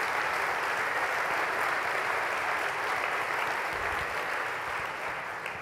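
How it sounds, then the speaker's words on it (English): A large conference audience at the CHI 2019 welcome ceremony breaks into sustained applause, a thick, even roar of many hands clapping in a big hall, steady throughout with only a slight fade at the close. "Give them a big round of applause"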